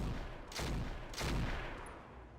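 Mech weapons fire in the BattleTech game Roguetech as two heavy, booming volleys about half a second apart over a dense rumbling background, loud and without speech.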